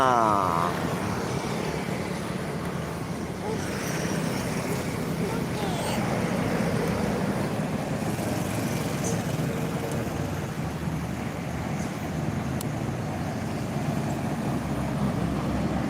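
Truck carrying ground piles rolling past on a road, a sustained engine rumble and tire roar of passing traffic, close and steady with a person talking over it.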